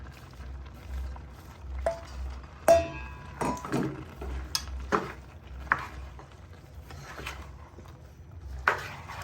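Chopped okra goes into oil in a cooking pot. Scattered clatters, knocks and scrapes of pot and utensils come over a low steady hum, with a few sharper clinks standing out.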